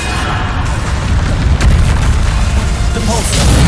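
Bombarda spell blasts in Hogwarts Legacy make loud, booming explosive bursts layered amid constant combat noise, several thuds and crackling impacts packed into a few seconds.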